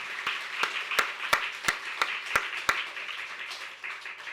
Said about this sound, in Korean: 오늘 하나님께 영광의 박수를 한번 올려봐요.